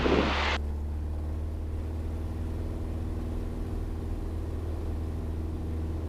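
A Piper PA28 Cherokee light aircraft's piston engine drones steadily through the takeoff roll, a close, constant hum with a strong low tone, after a brief louder burst at the start; no one talks.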